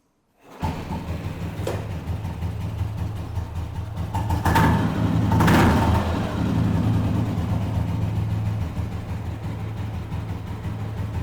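A restored 1995 Royal Enfield motorcycle engine starts, then idles with a steady low thump, revving louder for a few seconds midway before settling back to a continuous idle, close by with no talk.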